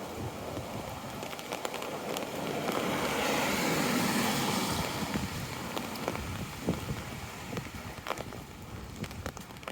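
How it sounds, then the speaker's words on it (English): Steady patter of rain drumming on an umbrella overhead during a July street walk, a dense crackling wash with scattered sharper drops, no voices. "can you hear the rain hitting the umbrella?"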